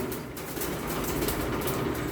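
Red checker racing pigeons of Python and Kittel bloodlines in a home loft, with soft low cooing and faint rustling at close range, steady and unbroken, no voices.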